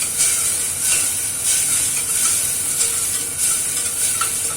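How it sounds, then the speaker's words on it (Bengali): Onion frying in a pan with ginger and garlic added, a continuous bright sizzle and hiss, close and fairly loud, with faint stirring movements underneath and no talking. "আমি পেঁয়াজটা খানিকটা ভেজে নিয়ে এর মধ্যে আদা রসুনটা দিলাম"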